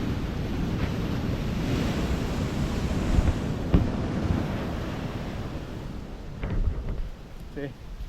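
Sea waves surging in toward a house along the shore, a loud continuous roar of surf with wind rumbling against the microphone and a few swells and crashes rising out of the noise.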